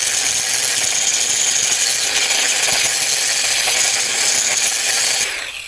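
A hole saw bores into metal on a Blazer with a swapped LS engine, giving a steady, loud, rasping grind that runs without a break for over five seconds and then stops abruptly.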